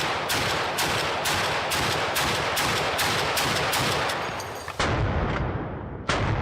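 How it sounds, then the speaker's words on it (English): Rapid bursts of gunfire from a prototype AK-50 rifle, a big-bore experimental gun, ring out as loud, evenly spaced heavy reports followed by a few final booming shots, all without any talking. "Herrera's prototype AK-50. We've tested the shooting. Now it's time to test the killing without actually aiming."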